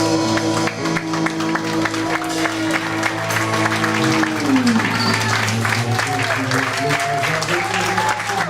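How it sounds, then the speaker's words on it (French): Applause from a concert audience at a Paris tribute to Georges Moustaki, steady and dense throughout, with lingering music tones beneath the clapping. "Du bruit, un tonnerre d'applaudissements"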